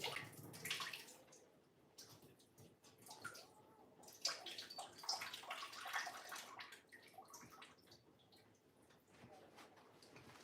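Fresh water runs into a tub, a faint, continuous splashing and gurgling stream that swells and eases over several seconds, with no voices.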